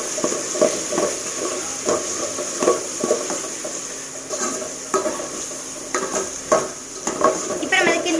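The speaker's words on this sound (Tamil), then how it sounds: "கிண்ட போகிறோம்." Chicken gravy frying in a pan as it is stirred, with repeated scraping strokes over a steady sizzle and hiss, close and moderately loud with occasional utensil clinks.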